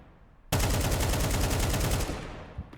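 Automatic rifle fire in the Counter-Strike game on the Overpass map, a rapid loud burst of evenly spaced shots sprayed toward a divider for about a second and a half, then tapering off.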